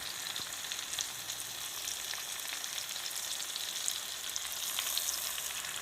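Pork fries with ginger garlic paste in a hot pan, a steady close hiss of sizzling oil that barely changes from start to finish, with no voices present.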